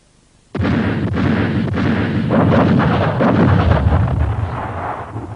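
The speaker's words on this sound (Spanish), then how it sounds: "La artillería comunista reveló su presencia de un modo dramático, aplastando a los confiados franceses contra el suelo del valle" Artillery bombardment at the Battle of Dien Bien Phu: a sudden heavy blast opens a sustained, rumbling barrage of overlapping explosions and booming impacts, loud and continuous to the end, with no voices.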